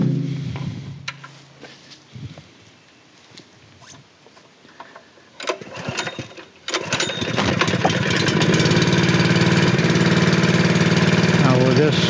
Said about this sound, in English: But I'll start this up and you can hear the padunk, padunk, padunk noise.